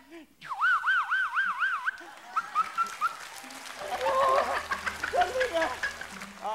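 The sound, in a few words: voice imitating siren alarm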